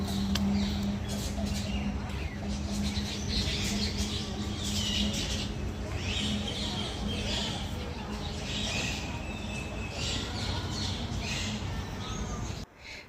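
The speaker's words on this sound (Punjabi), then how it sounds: "ਪੰਛੀਆਂ ਦੀਆਂ ਆਵਾਜ਼ਾਂ ਬਹੁਤ ਜ਼ਿਆਦਾ ਪਿਆਰੀਆਂ ਲੱਗਦੀਆਂ ਸੀਗੇ" Birds caw and chirp at a zoo over a busy, noisy outdoor background with faint voices, the calls overlapping steadily throughout.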